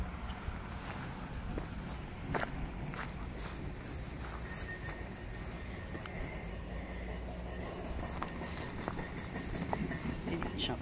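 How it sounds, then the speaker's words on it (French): Crickets chirp in fields on a hot day, with a continuous pulsing high trill from many insects that carries steadily over a soft outdoor background. "Les champs de grillons. C'est beau à entendre, mais ça signifie qu'il fait chaud."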